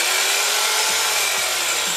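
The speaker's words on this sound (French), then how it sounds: "Il faut que je scie l'autre pied." Harsh, continuous buzzing of a jigsaw cutting wood close by, loud and steady with slight shifts in pitch as it works.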